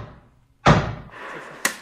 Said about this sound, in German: an die Tür hämmern